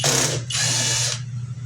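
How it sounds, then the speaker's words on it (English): Impact driver backing screws out of a Kirby vacuum cleaner, two close, loud whirring bursts with a short pause between them and a low motor hum underneath, with no talking. "So I use an impact driver"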